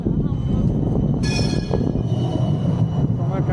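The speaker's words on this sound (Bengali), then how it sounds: "এই যে ট্রামটা আসছে।" A tram approaching along an Amsterdam street makes a loud, steady rail rumble with a brief bright metallic squeal partway through, all close and continuous.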